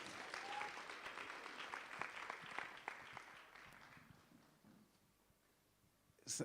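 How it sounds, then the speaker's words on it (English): An audience claps for a speaker at a small business talk, a burst of applause that tapers off and fades toward the end. "Can you please clap hands for our next speaker"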